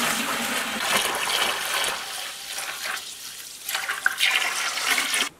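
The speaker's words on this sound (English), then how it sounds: "I'm going to get this bin rinsed out" Running water splashes and gushes into a bin as it is rinsed out, a steady close wash that dips briefly and then returns before cutting off.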